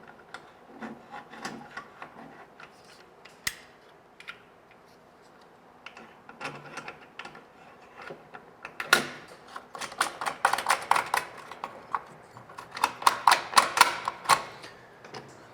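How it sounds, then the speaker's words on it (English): Double acting pneumatic cylinders being mounted onto a control panel produce scattered sharp clicks, taps and clatter of plastic and metal parts, sparse at first and busier toward the end, close by without talk. "So I will start with mounting my 2 cylinders here."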